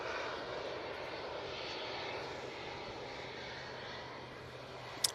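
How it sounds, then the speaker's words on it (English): Steady, moderately distant jet roar from a Logan Air Embraer ERJ 145 arriving at Manchester Airport, a broad, even rumble holding level for several seconds and ending with a brief sharp knock. "Logan Air, Embraer ERJ 145, coming in from Aberdeen."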